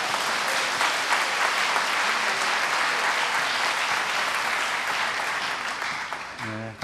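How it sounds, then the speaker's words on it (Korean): A church congregation at a revival meeting in Seattle gives sustained, even applause to welcome the pastor, loud and dense throughout, and it fades out just as a voice begins at the very end. "자, 우리 목사님 박수로 모시겠습니다"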